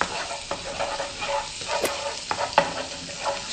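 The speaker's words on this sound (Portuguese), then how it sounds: "Só dar uma douradinha no alho." Garlic frying in butter in a pan for stroganoff, a soft steady sizzle with scattered crackles and light stirring clicks, close but quiet.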